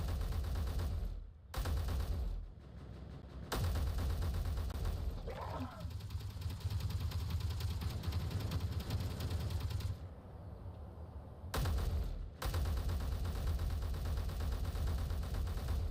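Turret fire in the video game Space Engineers rattles out in long continuous bursts, loud and dense, broken by a few short pauses, with a voice briefly heard in between.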